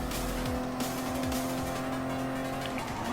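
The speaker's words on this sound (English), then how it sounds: "Alright, going in to overtake the blue Supra." Toyota Supra race cars in Gran Turismo Sport, engines droning steadily at high revs with shifting pitch and a brief tire squeal as cars run close together on track.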